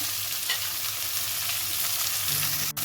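Food stirred in a frying pan with a steady close sizzle, a brief scrape near the end, no voices.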